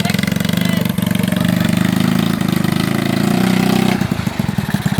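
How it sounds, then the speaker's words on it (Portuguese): A homemade tractor powered by a Honda 150cc motorcycle engine runs close by, a loud, steady pulsing putter that changes rhythm and choppily revs near the end, with no talk. "Aqui é com motor de moto, viu?"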